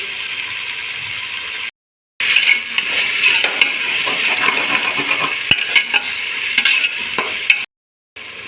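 Tomatoes with salt sauté loudly in a pan, a dense close sizzle with frequent metallic spoon scrapes and clatter, broken by two short silent gaps.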